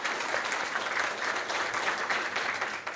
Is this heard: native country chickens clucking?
no